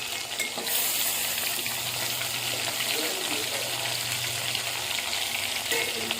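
Stuffed brinjal curry fries and cooks in a pan with a steady, close sizzle and bubbling that continues evenly throughout, with no pauses.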